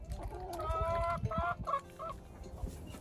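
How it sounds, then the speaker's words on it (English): Chickens cluck near and steadily while dust bathing in dirt-filled old flower buckets, several birds overlapping in short repeated calls with a faint rooster-like note, no talk over them. "the chickens are making a mess in the old flower buckets with all the dirt"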